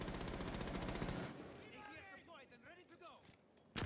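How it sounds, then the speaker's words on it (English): Rapid automatic gunfire rattles loudly in Rainbow Six Siege for about a second, then fades into quieter room noise and chatter before another sharp shot cracks at the very end. "A lot of gunshots going off."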